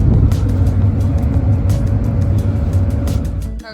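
A car on the drive home from a water park in the Carpathians, with a loud, steady engine and road rumble heard from inside the vehicle, broken by faint clicks and rattles, and no talk.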